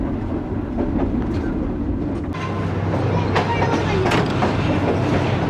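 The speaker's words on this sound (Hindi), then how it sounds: "हैदराबाद जंक्शन रेलवे स्टेशन के यार्ड में एंटर हो गई है ट्रेन और प्लेटफॉर्म पे लगने जा रही है।" The Pak Business Express passenger train runs on main-line rails approaching Hyderabad Junction yard in Pakistan, a loud steady rumble of wheels and carriages with rhythmic clickety-clack, close and continuous throughout.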